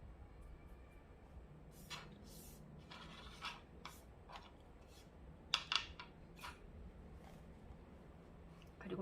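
Scissors snip through basting thread on a handmade sock doll, giving several quiet, brief cuts spread across a soft background with faint room noise.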